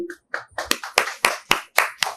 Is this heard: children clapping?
yes